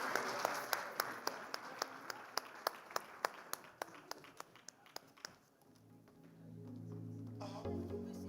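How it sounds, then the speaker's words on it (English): Audience applause for a conference panel, a steady run of sharp, evenly spaced claps over a room murmur that fades out toward the end as low voices and room noise take over. "Let's give them a round of applause for that."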